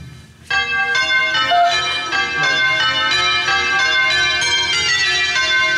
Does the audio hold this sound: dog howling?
no